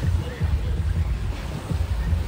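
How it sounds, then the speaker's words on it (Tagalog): Two boats approach a lagoon off Bantayan Island, Cebu, a low rumbling drone buried under steady wind buffeting and lapping waves. "May dalawang bangka naman parating."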